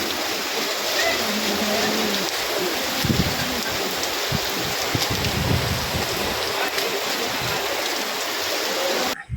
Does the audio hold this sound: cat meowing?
no